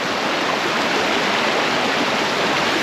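Rushing river water on the Devon–Cornwall border, a steady, dense broadband roar filling the whole clip, loud and close with no letup.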